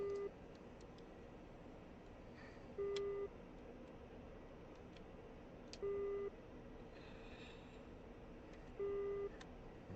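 Short electronic beeps sound at a steady interval, roughly every three seconds, over a faint low hum and soft background noise, warning beeps in the DCS flight simulator game.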